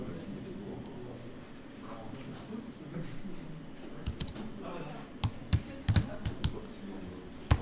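Computer keyboard typing, a few scattered clicks at first, then a quicker run of sharp keystrokes near the end, over a low background hum and a voice speaking.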